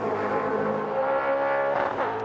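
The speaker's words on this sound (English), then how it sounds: "And you'll be able to hear just how hard they work the engines." Racing car engines at the Bathurst 1000 scream near the rev limiter as cars pass, a loud sustained high-pitched wail with harmonic overtones, heard alone.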